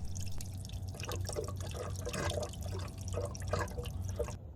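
Water trickles and drips out of the open drain plugs at the bottom of a Hayward Maxflo VS pool pump, a steady close dribble with scattered drops and no talking.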